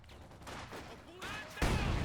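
Mortar fire in the video game Company of Heroes 2, a few muffled distant bursts building to a louder blast near the end, with game voices over the top.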